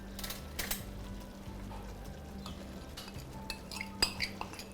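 A metal spoon stirs and clinks against a bowl while sweet and salty soy sauce are mixed, with soft scraping and a few sharp taps over kitchen background noise.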